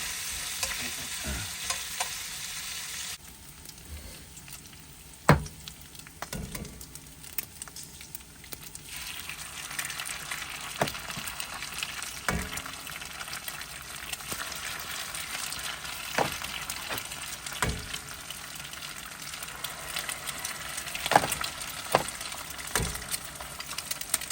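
Bacon frying in a pan sizzles continuously at a moderate level, the crackle brightening partway through, with occasional clicks and taps of stirring or turning over the hiss.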